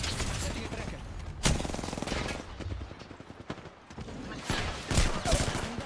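Gunfire in the Apex Legends video game, with repeated rapid automatic bursts and single sharp shots in an intense, busy firefight, loud and continuous with brief lulls.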